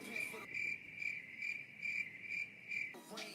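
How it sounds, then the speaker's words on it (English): A cricket sound effect chirps in a steady repeating pulse, about six evenly spaced bursts, heard clearly on its own in a quiet podcast gap. "I'm going to make sure I put a crickets effect in there."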